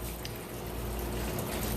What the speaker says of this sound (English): I have a 1100 gallon per hour pump on this thing.